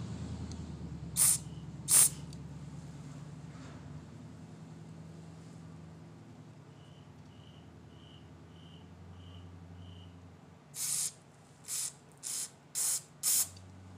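Motorcycle parts from a 2011 Kawasaki Ninja 250 get sprayed off in several short, sharp hissing bursts, two early and a quick run of five near the end, over a quiet background.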